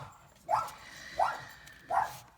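A dog barks three times at a steady interval, in sharp yips off at a moderate distance, over a faint background hum with no talk.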